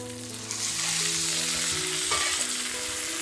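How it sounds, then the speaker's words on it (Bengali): A little water poured into cumin paste in a hot pan bursts into a loud, dense sizzle that holds steady throughout, with faint tonal hums underneath. "এখন একটু অল্প করে জল দিয়ে দিচ্ছি"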